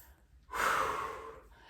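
A single long, breathy exhale during a standing exercise routine, close and moderately loud, rising quickly and fading over about a second.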